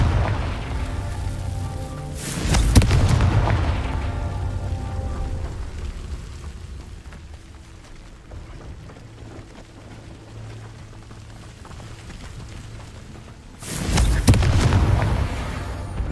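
Confringo explosion spell in the Hogwarts Legacy video game, two deep booming blasts several seconds apart over a low rumbling game ambience, with no speech.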